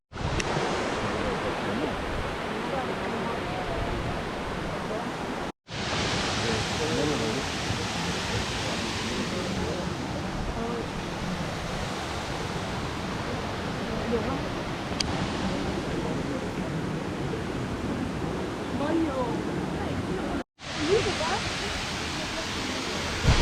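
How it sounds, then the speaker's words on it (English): A 28-meter-high waterfall at Plitvice Lakes, Croatia, in a busy spot, pours with a steady, close roaring rush of falling water that fills the whole scene, broken only by two brief cuts. "A 28-meter high waterfall,"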